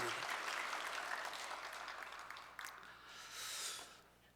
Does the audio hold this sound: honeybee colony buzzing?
no